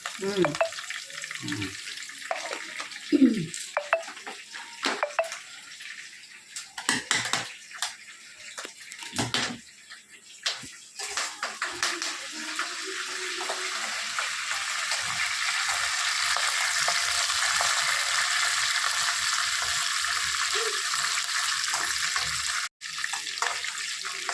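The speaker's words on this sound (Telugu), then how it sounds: "మనము తాలింపులు ఈ కరివేపాకు వేస్తేనే మంచి అసలు బాగుంటుందండి టేస్ట్." Curry leaves fry in the hot oil tempering for a village-style gongura chutney, opening with a few scattered clinks and stirs before a loud, steady sizzle builds and holds close by.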